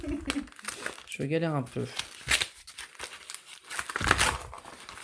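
Plastic wrapper of a Pokémon card booster pack being torn and crinkled open by hand without scissors, in several short bursts mixed with French speech.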